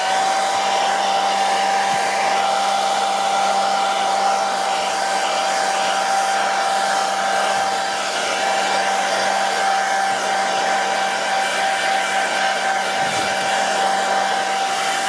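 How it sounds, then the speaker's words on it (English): A hair dryer blows steadily and loudly on high heat, drying the cleaned parts of a Singer 431 G convertible sewing machine, a constant whir with a tonal whine and no voices. "with the hairdryer."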